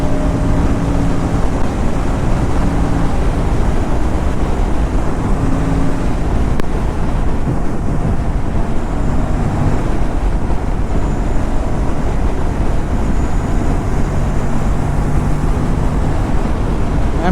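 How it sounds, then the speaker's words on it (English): An Aprilia RS 457 motorcycle cruising along a highway with other bikes, a steady, loud engine and wind roar that stays constant throughout, with a faint tonal drone and no voices. "RS 457 is going like a rocket on these roads."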